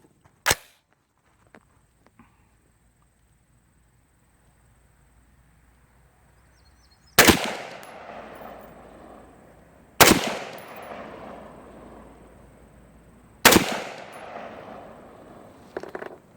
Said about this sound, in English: I want to put 3 rounds in the bottom left target